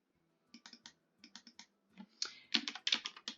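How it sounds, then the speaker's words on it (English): Fingers type on a computer keyboard in short clustered bursts of crisp key clicks, quiet and close, with a faster run of keystrokes toward the end and no talking. "we type in chicken."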